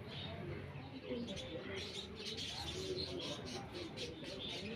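Domestic pigeons kept in a home setup cooing softly and repeatedly at close range, low murmuring coos with a few faint chirps over steady room noise.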